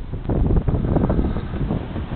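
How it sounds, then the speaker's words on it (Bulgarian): Headwind buffets the microphone during a boat ride on the Arda river, a steady loud low rumble of wind gusts with faint water and engine wash beneath, no voices. "Насрещния вятър ще ви даде прохладата и удоволствието."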